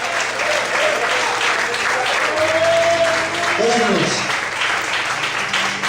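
A church congregation applauds during a sermon, a loud sustained burst of clapping that fills the room while a voice speaks over it.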